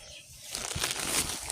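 Pet chickens flap their wings in a brief burst of close, rustling feathery beats lasting about a second, with no clear talk over it.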